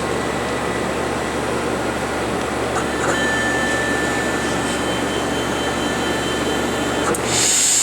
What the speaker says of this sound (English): And here it turned the vacuum on.